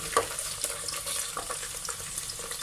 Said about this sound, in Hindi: प्याज को हमने लाइट सा जो है फ्राई करना है